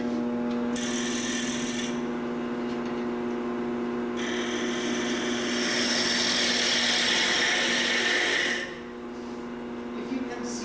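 A shallow woodturning gouge cuts a flat wooden box on a lathe, giving a steady hum under two bursts of loud close hissing shaving, the second longer and stronger before the cutting stops.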